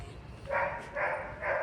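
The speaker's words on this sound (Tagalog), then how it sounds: "ayun may aso may aso" A dog barks three times at a steady pace, some distance off in an outdoor garden setting while plants are being watered and tended.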